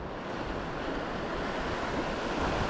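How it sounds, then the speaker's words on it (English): Steady wind buffets the microphone, a broad continuous rushing roar with no voices. "Getting kind of windy."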